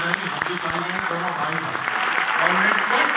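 A seminar audience claps in a dense, steady wash of applause, with a voice speaking over it throughout.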